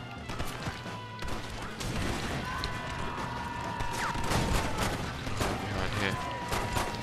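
Chaotic shootout in the video game Red Dead Redemption, with scattered gunshots, crashes and clatter layered over continuous background action at moderate loudness, with some talking mixed in.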